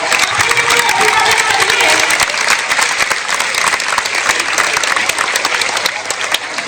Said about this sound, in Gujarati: હું જોરદાર તાળીઓના ગડગડાટ સાથે